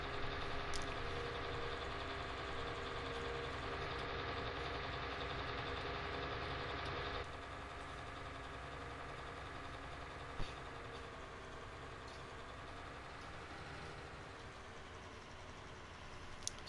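In Farming Simulator, a tractor engine idles with a steady, even drone that drops slightly in level partway through and continues unbroken, with no voices.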